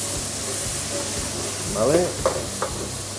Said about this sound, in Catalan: Ràpid tirem la ceba, perquè està fent massa fum